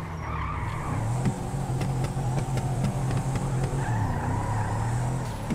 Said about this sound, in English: Dubsta 2 has the exhaust sound